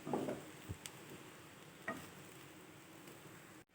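Bread slices toasting in a dry pan with no oil, a faint steady hiss with a few soft taps and scrapes.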